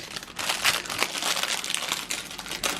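A gift packet is opened, its wrapping crinkling and crumpling loudly and close up in a steady, dense rustle for a few seconds, with no talking.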